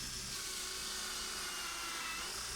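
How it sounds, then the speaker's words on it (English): A hole saw cuts small wooden discs, producing a steady, faint, hissing high-pitched grind with no breaks over a couple of seconds. "So it's time for a bit of hole sawing"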